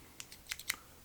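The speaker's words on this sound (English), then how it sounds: "I take my scissors and run them down" Scissors are drawn down a CDC feather stem at a fly-tying bench, giving a few quick, close, dry ticks and scrapes in a short burst.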